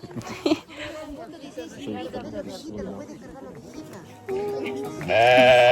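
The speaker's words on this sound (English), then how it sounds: "Oh, oh, and there's sheep as well." Sheep bleat at a scenic lookout in Peru, several wavering calls scattered through the scene, mixed with people chatting nearby and a louder, sustained bleat near the end.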